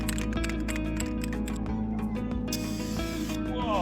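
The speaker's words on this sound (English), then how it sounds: "it's like rattle can wood sealant, so it's supposed to make it fast and easy" An aerosol rattle can of wood sealant spraying on an outdoor outhouse build: a loud, continuous close hiss running through the whole clip with brief interruptions and some clicking.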